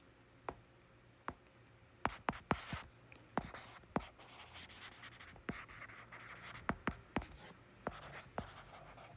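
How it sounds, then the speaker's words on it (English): Pen writing by hand while working electrostatics physics problems: irregular, close, crisp scratches and taps as strokes land on paper, with short pauses between bursts. "let me write it here."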